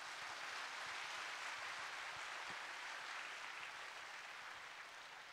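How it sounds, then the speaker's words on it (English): Audience applause at a charity concert, a steady faint wash of many hands clapping in a large hall, sustained throughout and slowly tapering. "I think you deserve a big round of applause for yourself."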